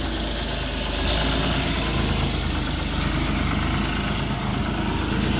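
A Loadmac 855 all-wheel-drive pantograph forklift runs its engine with a steady, loud, close mechanical drone throughout, no voices over it.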